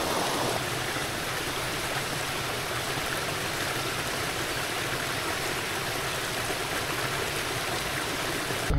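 A small waterfall cascades in the Cézallier volcanic highlands, a constant broadband rush of falling water, close and loud and unbroken throughout, with no voices.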